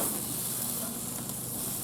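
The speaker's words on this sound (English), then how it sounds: "See how it's sizzling and getting charred a little bit where it's like crunchy?" Tri tip steak sizzles on a grill grate, a steady close crackling hiss that runs unbroken and fairly loud throughout, with no voices.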